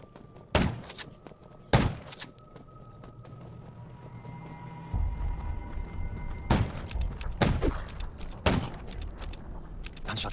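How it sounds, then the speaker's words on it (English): Loud, sharp single gunshots in the zombie survival video game Undawn, about five cracks spaced irregularly over a low rumbling background with no talking. "Gunshots will attract more."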